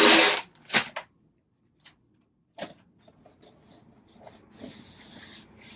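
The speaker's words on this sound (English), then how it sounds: "I do need to put some tape on these, so I'm going to give you a noise warning" Several loud, sharp ripping bursts of packing tape pulled off a roll, separated by pauses, followed by a longer hissy stretch of tape being smoothed down, close up.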